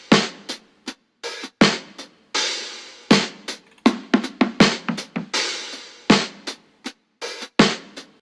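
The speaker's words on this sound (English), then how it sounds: "I put just the hi-hats and cymbals in this one because I wanted to do a little bit of processing on them. I want them to pan from left to right." A drum loop of hi-hats and cymbals from a hybrid boom bap and trap beat plays as crisp, rhythmic hits and short cymbal washes with brief gaps between them.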